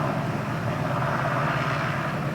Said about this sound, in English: that's the big Sea King helicopter